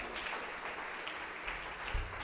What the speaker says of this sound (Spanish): Denle un aplauso fuerte al Rey entonces.